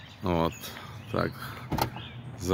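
A Tesla Model X Plaid's power windows and doors close, giving three separate rising electric motor whines close up, each followed by a soft mechanical settle.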